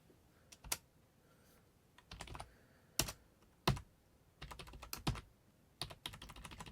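Keys clack on an Atari 400 Mini keyboard in irregular bursts, single taps and short flurries with pauses between, close and quiet.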